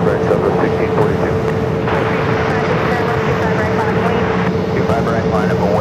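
Southwest airliner rolling for takeoff on runway 25 right at Phoenix Sky Harbor, a steady loud engine roar that holds throughout with a faint tonal whine, under occasional voice chatter.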